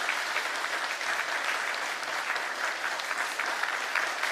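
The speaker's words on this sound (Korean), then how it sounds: "우리와 같은 박수로 축하해 주시길 부탁을 드립니다." A church congregation applauds certificate recipients at a Sunday service, with steady, even clapping from many hands filling the room at moderate volume.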